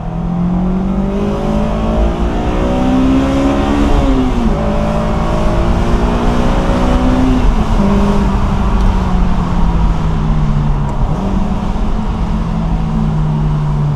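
A Honda S2000 engine revving hard under acceleration from inside the car, a loud sustained high-pitched wail climbing through the gears with brief dips at each shift, no voices over it.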